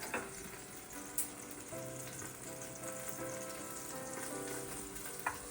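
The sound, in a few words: coconut cream sizzling in pan for massaman beef curry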